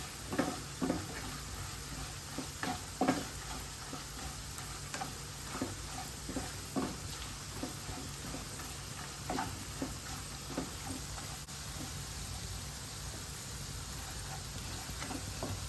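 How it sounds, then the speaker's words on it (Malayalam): Kashmiri chilli powder fries in oil in a pan for a potato and ivy gourd masala, crackling steadily under repeated scraping strokes of a spoon, with no voices. "ഒരു ഒന്നര ടീസ്പൂൺ കാശ്മീരി ചില്ലി പൗഡർ ഇട്ട് കൊടുത്തിട്ടുണ്ട് ഇതൊക്കെ ഒന്ന് ഇളക്കി ഒന്ന് മൂപ്പിച്ചെടുക്കാം"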